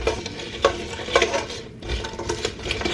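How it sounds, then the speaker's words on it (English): Cranberries and a cinnamon stick being stirred in a cooking pot, a spoon scraping and clinking against the sides in several quick strokes, close and fairly loud with no talking. "we're gonna go ahead and mix that up"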